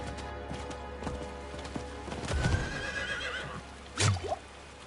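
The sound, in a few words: horse neighing in video game Diablo 4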